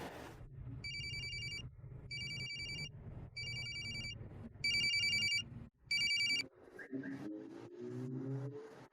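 A phone ringtone repeats in five short electronic bursts while a car engine hums underneath; the ringing stops unanswered and the engine revs on.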